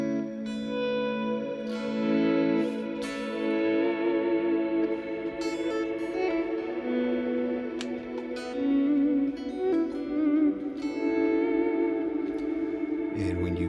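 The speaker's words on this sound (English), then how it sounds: "here's the particle verb reverb" A guitar runs through a Line 6 Helix particle verb reverb, with sustained chords that bloom into a shimmering, smeared wash of echoing tones. Soft picked notes and swells ring on continuously at a moderate level, with no talking.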